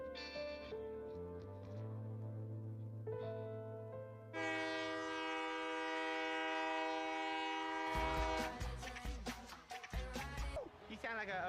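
A passing train's horn blares in a long sustained tone over a rumbling run, then gives way to louder, choppy clatter near the end, with music-like tones layered in and a voice present.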